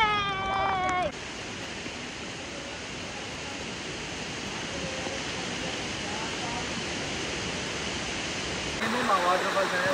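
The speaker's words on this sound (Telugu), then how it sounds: "ఈ అందమైన అడవిలో ఈ వాటర్ ఫాల్స్ అందరూ బాగా ఉన్నాయి." A waterfall in a monsoon forest on a trek gives a soft, continuous rushing hiss, with people talking briefly at the start and again near the end.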